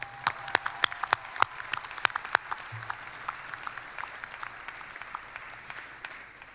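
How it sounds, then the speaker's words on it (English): A graduation audience gives sparse applause, with a few sharp, distinct claps standing out at the start over a thinner, scattered patter that fades gradually, heard at a moderate distance in a large hall. "So let's give them a round of applause."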